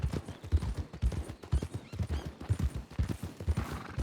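Horse trotting in the Western game Desperado, with steady low clip-clop hoofbeats in an even rhythm throughout, close and moderately loud with no talk over them.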